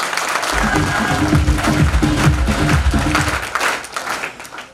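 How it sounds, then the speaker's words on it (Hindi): A crowd at a training workshop claps steadily, a dense patter of many hands that fades toward the end, with some voices mixed in underneath. "इनके लिए तालियां हो सकती हैं।"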